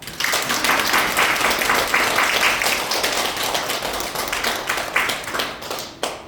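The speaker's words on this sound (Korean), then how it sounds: "박수를 치면서." A lecture audience claps steadily throughout, a loud, dense, continuous applause with slightly rhythmic surges, heard on its own without talk.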